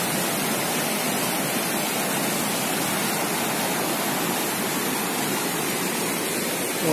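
A mountain river rushes loudly beneath a bridge near Ghansali, filling the air with an unbroken, dense roar of churning water and no other sounds.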